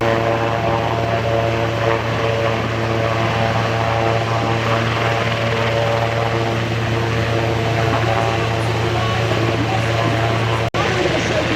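Turboprop engines of RNZAF military aircraft, including a P-8 Poseidon, at the Warbirds over Wanaka 2024 air show: a loud, steady propeller drone with strong tonal hum that holds throughout, with a short dropout near the end.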